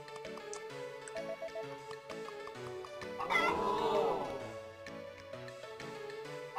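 Chickens clucking at the chicken festival in the Harvest Moon: Back to Nature video game, steady clucks over looping game music, with a louder burst of fowl squawks in the middle.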